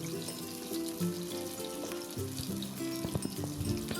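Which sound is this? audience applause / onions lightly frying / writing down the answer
onions lightly frying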